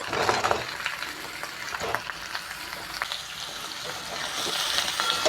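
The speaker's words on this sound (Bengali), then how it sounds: "বেগুনটা দিয়েও এভাবে একটু নেড়ে ছেড়ে ভেজে নেব" Eggplant, potato and soybean stir-frying in a pan for an all-vegetarian dish: a soft, continuous sizzle with occasional scraping and tossing strokes, fairly faint and steady throughout.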